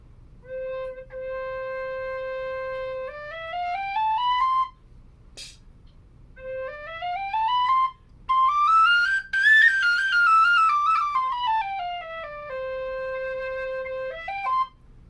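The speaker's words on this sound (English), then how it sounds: "here's an oak C, which I also feel was a good C whistle" An oak tin whistle in C plays slow melodic phrases, sustained notes stepping up and down, with brief pauses between phrases; clear and close, resonant on the low notes.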